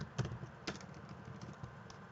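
Light typing on a computer keyboard, a handful of soft, quick key taps in an uneven rhythm, quiet and close with no speech.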